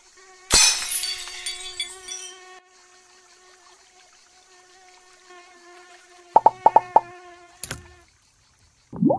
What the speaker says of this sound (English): Go away, pesky mosquito!